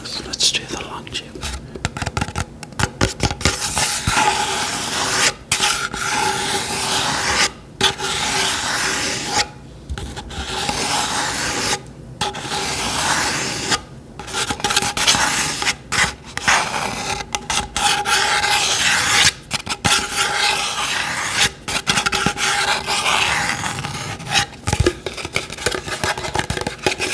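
Scratchy scraping and rubbing on a long tube for ASMR, a dense, continuous rasping texture with brief pauses, close to the microphone, alongside soft whispering.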